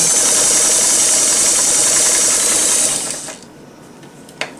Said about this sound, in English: And this is a heavy duty machine. It does sew real well.